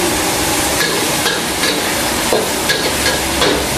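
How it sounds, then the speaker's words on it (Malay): Prawn nasi goreng stir-fried at a char koay teow stall, with a loud, constant sizzle and repeated scraping and clanking of a spatula against the wok, heard close. "masuk kemudian kita tumis bagi dia kering"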